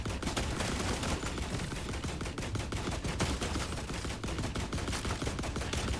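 Rifle gunfire in the video game The Last Caretaker, a dense, continuous barrage of rapid shots with clattering impacts, loud and close throughout with no talking.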